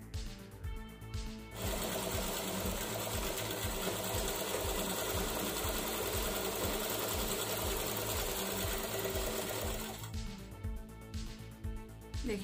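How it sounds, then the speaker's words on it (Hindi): A sewing machine stitches steadily for about eight seconds, sewing two cut fabric pieces of a homemade face mask together. The motor whirs loud and close with a fast rhythmic chatter, and brief handling noise comes at the start and end. "इस पे हम इस साइड से सिलाई लगाएंगे"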